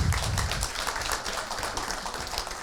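An audience at a climate and energy ministry green-finance town hall meeting in Korea applauds: dense, steady clapping that stays fairly loud for a couple of seconds.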